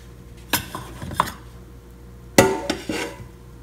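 Thick bánh canh noodles are dropped into a small pot of starch-thickened crab soup, giving a few sharp clinks of utensils against the pot, two clusters of knocks separated by a quiet pause, close by.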